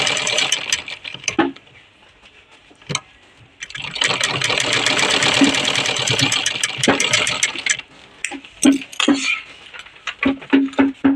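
A domestic sewing machine stitches a suit cut from an old saree, running in loud, steady bursts with short pauses and clicks between seams.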